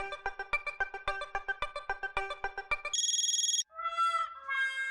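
A phone ringtone plays a rapid repeating melodic pattern, then shifts to a steady high trill and a few brighter tones, clear and close with no voices.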